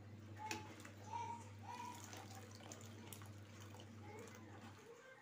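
Water drains from blanched spinach being strained in a kitchen, a steady running and splashing flow over a low constant hum for the whole stretch.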